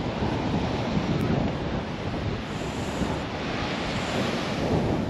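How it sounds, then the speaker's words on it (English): Rough sea surf crashing steadily onto the beach at Anderby Creek, a continuous broadband roar of breaking waves mixed with wind buffeting the microphone, with no pauses throughout. "the waves are crashing"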